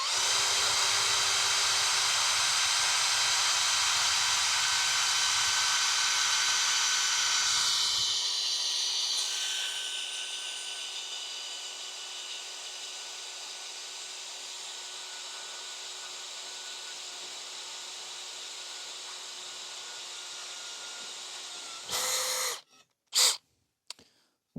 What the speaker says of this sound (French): on va faire un petit test avec un forêt de 5 mm de diamètre